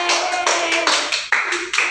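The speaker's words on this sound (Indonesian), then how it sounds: "berikan tepuk tangan dulu" Quick bursts of clapping in a classroom as a group steps forward to present, a short lively patter of hands over a couple of seconds with voices mixed in.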